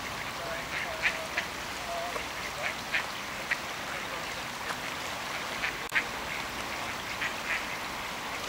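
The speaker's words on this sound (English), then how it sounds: "Duckies!" Ducks quack repeatedly in short bursts at a moderate distance on the water while sightseeing in Oslo, with soft background murmur around them.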